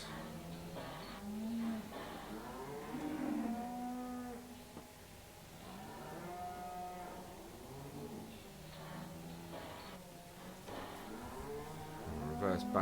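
Cattle in the Farming Simulator 17 video game moo repeatedly, the long, drawn-out calls rising and falling across the scene while someone talks over them at moderate volume.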